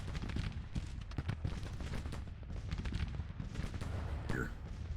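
Continuous crackle of massed gunfire and distant booms in a Civil War battle at Fort Pillow or Second Manassas in Grand Tactician: The Civil War, a dense steady rumble of shots with a brief voice near the end.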